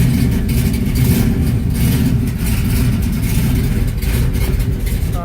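Engine of a 1971 Plymouth Barracuda with a four-speed manual rumbling and revving, a loud, deep, continuous exhaust drone heard close up with slight swells in pitch.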